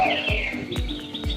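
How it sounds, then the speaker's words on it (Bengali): A dove perched in a coconut tree calls at midday, short repeated calls sounding a few times in quick succession, fairly faint and alone. "ওই দেখো গাছে ঘুঘু পাখি বসে ঘুঘু পাখি ঘু ঘু করে ডাকছে"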